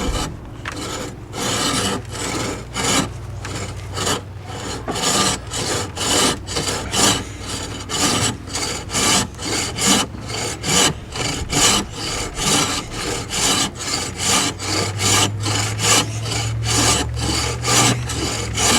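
Saw cutting through dense, semi-seasoned cherry hardwood, a steady, loud rhythm of rasping strokes that continues unbroken for the whole stretch, with a low engine-like drone rising near the end.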